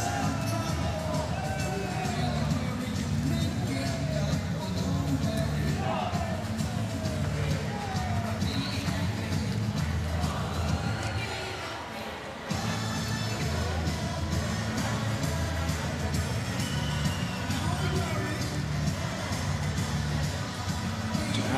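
Crowd in a volleyball arena at a men's international match between Japan and Iran cheering and shouting steadily throughout, a dense roar with a brief dip midway, under a commentator's voice.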